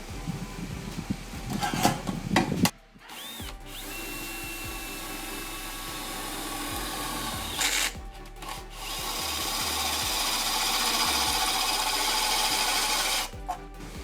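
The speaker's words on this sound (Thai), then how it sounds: "กับสว่านเจาะกระแทกตัวนี้ที่เราจะปรับโหมดมาในรูปแบบของการเจาะ และใส่หัวเป็นแบบโฮซอ" A cordless impact drill with a brushless motor, set to drill mode and fitted with a hole saw, grinds steadily and loudly for most of the stretch. It cuts out briefly twice, then spins back up.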